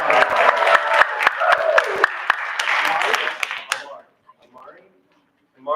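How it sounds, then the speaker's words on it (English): Audience applause at an outdoor noontime show with a guest artist: a brisk burst of many hands clapping that fades out after about four seconds, followed by near silence and faint scattered sounds. "Big round of applause."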